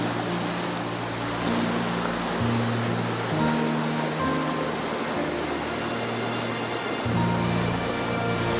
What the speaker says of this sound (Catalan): Allà baix tenim un dels salts del riu Núria